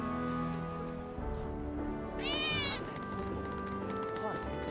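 A cat meows in the Final Fantasy VII Remake game world, one short rising cry in the middle of a busy scene, set against game ambience and people talking.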